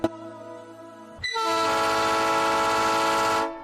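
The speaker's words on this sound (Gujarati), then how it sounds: "ટ્રેન આવી બી ગઈ." A train pulls into a station: a long, loud horn blast sounds after a quieter stretch of steady mechanical hum, holding for about two seconds and then cutting off. No voices.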